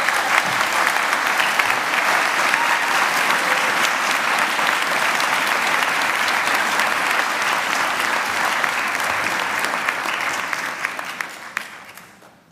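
Sustained audience applause at a university graduation ceremony, a dense, even wash of many hands clapping that continues steadily for over ten seconds before tapering off at the end.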